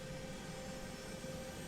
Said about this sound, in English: Now I'll go ahead and start the engines.